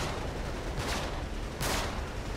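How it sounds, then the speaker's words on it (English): Heavy gunfire rages in the Uncharted 3 action game, a dense, continuous barrage of shots with two louder bursts standing out against the constant noise. "there's so much fucking gunfire."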